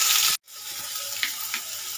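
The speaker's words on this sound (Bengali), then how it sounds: "ফোড়নটা লাল লাল করে ভাজা হয়ে গেছে। এবার আমি দেব কুচনো পেঁয়াজ।" Chopped onion tipped into hot oil tempered with cumin and black mustard seed gives a loud, bright sizzle that cuts out briefly, then returns as a steadier frying hiss with small crackles and stirring scrapes.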